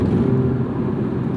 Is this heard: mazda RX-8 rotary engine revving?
yes